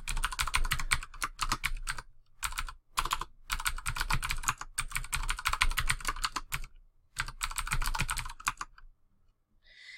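Fast typing on a computer keyboard while filling out an online form, dense bursts of clicking keystrokes broken by short pauses, close and clear, with no talk.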